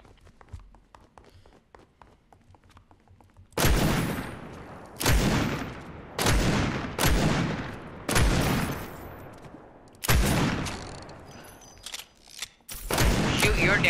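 Gunfire in Fortnite shooting at a target: a quiet stretch gives way to a series of loud, close bursts, about seven heavy volleys with short gaps between them.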